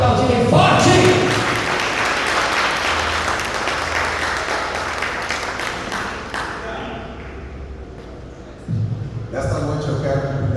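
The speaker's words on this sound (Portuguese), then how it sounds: "Quem pode aplaudir bem forte?" Evening church congregation applauding loudly, a sustained burst of dense clapping that gradually thins and fades, followed by a few voices and a brief thump near the end.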